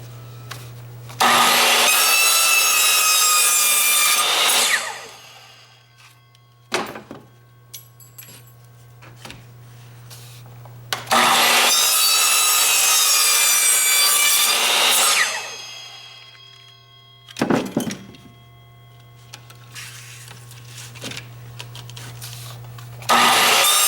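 A Rage Evolution blade saws through wood studded with hard sheetrock screws in two loud, sustained bursts of several seconds each, with the motor spinning down and quiet pauses between cuts.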